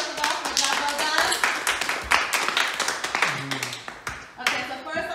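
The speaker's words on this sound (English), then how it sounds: "So give them a round of applause." A small family group claps for the contestants of a home bake-off competition, scattered and uneven hand claps mixed with taps under continuous talk and chatter.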